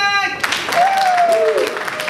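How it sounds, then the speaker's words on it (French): An audience applauds in a brief burst of clapping. A voice talks over it, and a short tone plays briefly. "Et Ketia, on applaudit pour le 5x5."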